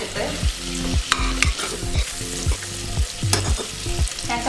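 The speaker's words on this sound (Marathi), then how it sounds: "आता याच्यामध्ये मॅरिनेट केलेली कोळंबी टाकून देऊया. त्याला असं व्यवस्थित असं मिक्स करून घ्यायचं." Marinated prawns sizzle in a hot pan for biryani while being stirred, with repeated scraping strokes in a regular rhythm over a constant close-up frying hiss.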